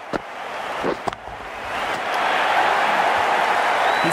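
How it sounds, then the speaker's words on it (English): Stadium crowd in the cricket video game Cricket 19 roars after a six, starting with a few sharp knocks before the cheering swells into a steady, loud wash that carries to the end. "The crowd are loving this."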